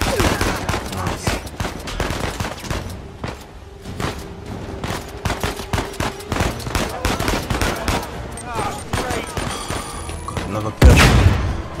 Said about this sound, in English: Another perfectly aimed grenade.